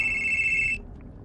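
A mobile phone ringtone goes off in a cinema, a bright electronic tone ringing steadily for under a second before cutting off, with faint murmuring background noise underneath.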